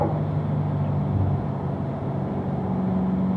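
A race car on a circuit during a performance driving school session runs at full throttle up the front straightaway, a steady, loud engine drone that holds level throughout with no breaks.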